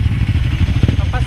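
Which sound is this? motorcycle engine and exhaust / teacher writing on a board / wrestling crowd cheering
motorcycle engine and exhaust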